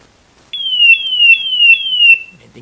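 A GFG G460 multi-gas detector alarm repeats four rapid descending beeps in a steady rhythm, piercing, loud and near, then stops.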